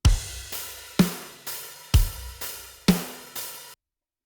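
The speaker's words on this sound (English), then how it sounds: "parallel compression on the drums." Heavily compressed drums on a parallel compression bus in a Logic Pro X heavy-music template: punchy kick and snare hits alternate at a steady mid tempo, loud and dense, about eight hits before stopping abruptly.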